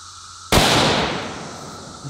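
A cheap sniper-style air rifle fires a single sharp, loud crack through a pineapple, the report ringing out and fading over the following second and a half.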